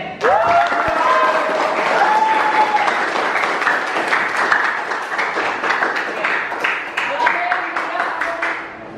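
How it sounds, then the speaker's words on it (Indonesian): A classroom of teacher trainees applauding Pak Arifin, steady full-room clapping that sustains throughout, with a voice speaking over the applause. "Tepuk tangan Pak Arifin."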